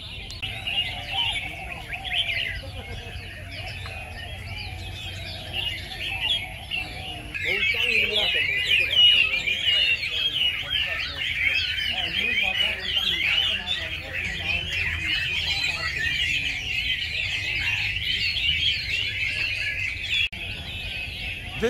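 Caged songbirds sing together at a bird singing club in Singapore, a dense chorus of chirps and trills that carries on throughout and grows louder partway through. A low murmur of people continues underneath.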